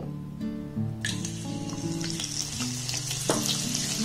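Gram flour batter pours through a strainer into medium-hot oil and fries with a loud, steady crackling sizzle, while a metal strainer scrapes and taps close by.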